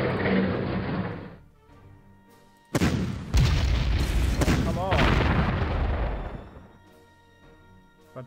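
Stuka dive-bomber attack explosions in the Panzer Corps video game on a World War II eastern front map: a rumble fades out, then a sudden loud blast opens a sustained crackling, booming barrage that dies away.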